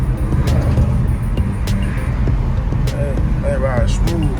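An old Chevy car cruises along a road, its engine and road rumble a steady, loud low drone throughout, with a brief voice-like tone sweep near the end.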